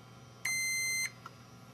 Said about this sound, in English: touch ground, it should beep for continuity